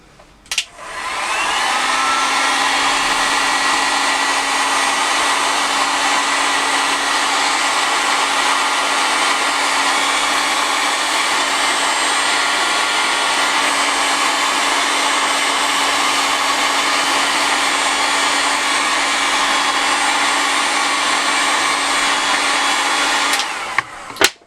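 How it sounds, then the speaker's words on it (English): Heat gun blowing hot air while fitting a DC-DC charger in a campervan, a steady, loud, unbroken whooshing roar with a faint tonal hum, running for over twenty seconds before clicking off. "I'm going to go and get my hot gun."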